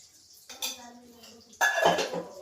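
Metal spoon clinks and scrapes against a pan while stirring ghee into sugar syrup for sesame chikki, with a soft stirring scrape and a sharper burst of clatter near the end.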